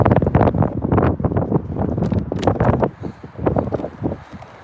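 Strong gusting wind buffeting the microphone outdoors while a dog is walked, loud irregular blasts that swell and drop over a few seconds, with no talking.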